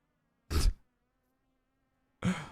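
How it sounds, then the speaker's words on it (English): Bees buzz in the video game Warpath, two short separate buzzing bursts over near silence. "I've got bees now, apparently."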